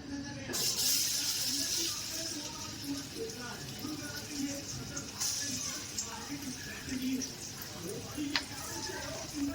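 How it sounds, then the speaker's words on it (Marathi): Garlic dropped into hot oil for a village-style crab dish, giving a steady bright hiss that carries on throughout while someone talks over it. "तेल पण गरम झालं, मी लसूण घालते."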